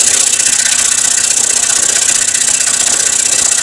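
Scroll saw cutting a circle out of wood for an inlay coaster, a steady, loud buzzing drone of the reciprocating blade that runs unbroken from start to finish.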